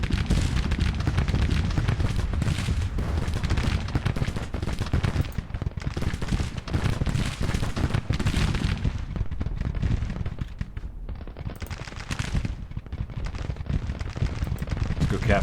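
Constant rolling gunfire and artillery booms from a Civil War battle in Grand Tactician: The Civil War, dense and loud throughout, with a voice talking over the din.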